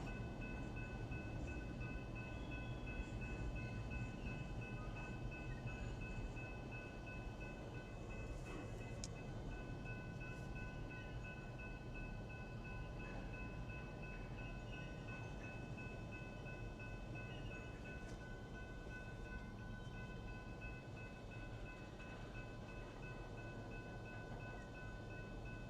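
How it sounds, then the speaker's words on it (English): A long freight train rolls past a storm-chasing vehicle waiting at a crossing in the Texas Panhandle, a steady continuous rumble and clatter of wagons with a faint horn tone, holding loud and unchanging for the whole stretch. "Man, I have a feeling this is going to be a long train."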